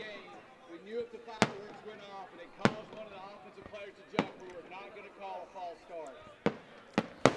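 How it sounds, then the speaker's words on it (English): Fireworks go off outside the north end zone during a college football game, sharp booming bangs spaced a second or more apart, a few closer together near the end, while a commentator talks throughout. "the official stopped the play here briefly while we get the fireworks show here going"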